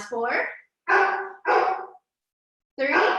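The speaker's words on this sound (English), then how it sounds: "Sorry about my dog." A dog barks and yips in four short, loud bursts spaced by pauses, close to the microphone, while a woman counts aloud during an exercise class.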